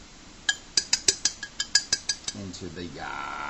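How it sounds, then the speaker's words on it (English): A utensil stirring buttermilk into half and half in a container to make sour cream, about a dozen quick clinks against the side, close and crisp, followed by a brief voice. "I just stir it a little bit to get the buttermilk and its good bacteria well mixed into the"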